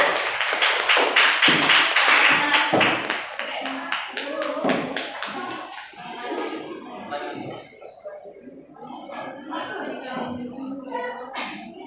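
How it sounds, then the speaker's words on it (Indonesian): Classroom applause breaks out for a student called to the front, a burst of dense hand clapping that thins into scattered claps and light tapping, with students' voices mixing in toward the end. "Kasih aplaus dulu biar semangat ya."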